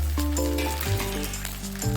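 Fried potatoes and slit green chillies dropped into a pan of lightly fried onions give off a close, steady sizzle and hiss, with a few soft clatters as pieces land; no one speaks.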